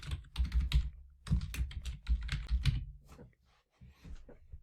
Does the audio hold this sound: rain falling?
no